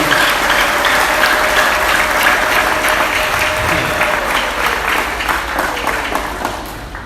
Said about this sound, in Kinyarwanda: twayikoze amashyi